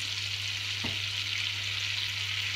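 Butter and flour cooking together into a roux for a fish pie, giving a steady, even sizzle and hiss throughout with one soft knock partway through and no talking.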